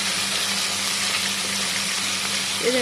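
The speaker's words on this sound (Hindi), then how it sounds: "ये अभी डबल फ्राई होगा, सारा डबल फ्राई होगा।" Chicken double frying in hot oil gives a continuous, even hiss of sizzling with a low hum underneath, fairly close, without any talking.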